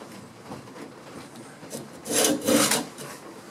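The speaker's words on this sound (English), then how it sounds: "We're getting nice thin shavings." A bench plane takes thin wood shavings, a soft scraping hiss followed by two louder, brighter rasping strokes near the end, close and without talk.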